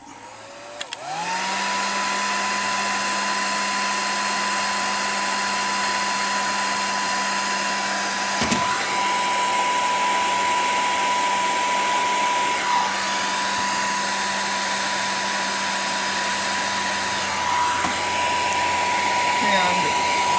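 A hot-air tool heats the glove box spring of a Mercedes-Benz W123. It runs as one loud, steady whirring blow for about twenty seconds, with a few faint knocks and shifts in between.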